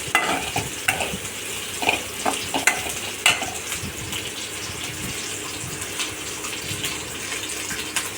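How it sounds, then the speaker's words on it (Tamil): Cauliflower and garlic being stirred in a frying pan for gobi pepper fry, with repeated scraping and clattering strokes over a wet sizzle, close and fairly loud. "அதையுமே சேர்த்து இந்த காலிஃப்ளவரோட நம்ம மிக்ஸ் பண்ணிக்கலாம்"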